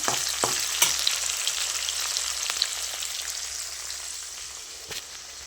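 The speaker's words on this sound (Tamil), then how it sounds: "ஒரே ஒரு தக்காளி வச்சு சின்ன பழம் நல்லா வதங்கட்டும்" Onion and tomato sauté in a pan for a Tamil Nadu style fish curry with raw mango, an even, close hiss with a few sharp crackles, gradually fading slightly.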